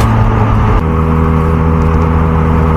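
Benelli 302S motorcycle fitted with an aftermarket exhaust and twisted mid pipe, engine running steadily with a deep, droning tone and a slight change in pitch early on, loud and close with no voices.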